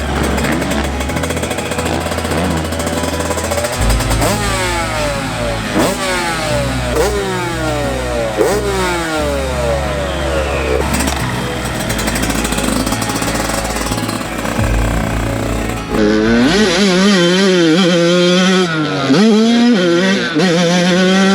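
A Yamaha YZ85 big-wheel dirt bike is ridden hard on a motocross track, its loud two-stroke engine buzzing and revving steadily up and down, rising and falling through the gears with no pause.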